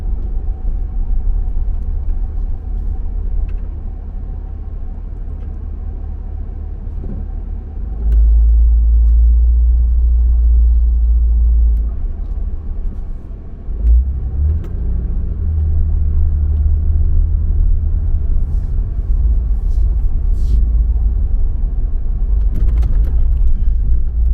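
Car driving through Pine Mountain, Georgia, with a steady low engine and road rumble inside the cabin, swelling louder midway as the car pulls harder, then settling, with no voices.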